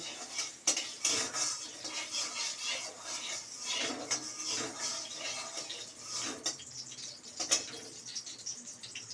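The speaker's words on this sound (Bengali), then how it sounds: "এই নারকেলটা আমি প্রথমে এই ঘিয়েতে ভেজে নেব।" Small coconut pieces fry in hot ghee while a utensil stirs and scrapes the pan, giving a steady close sizzle broken by irregular clinks and scraping strokes.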